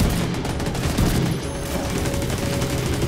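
Dense, continuous gunfire from a firefight in the video game The Division 2 crackles loudly without pause, with automatic bursts blending into a steady roar.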